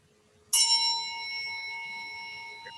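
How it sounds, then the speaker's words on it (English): A single bell is struck to open a club meeting, a bright clear ding that rings out and decays slowly with a long sustained tone in an otherwise quiet room. "Keith, are you ready to ring a bell for us?"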